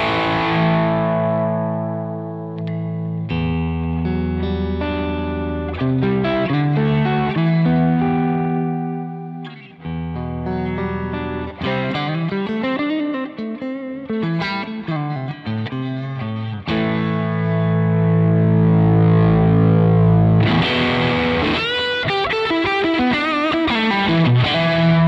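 Electric guitar through a fuzz pedal with the guitar volume backed down, playing sustained chords and melodic runs that stay clear and defined, continuous and fairly loud with some effects shimmer.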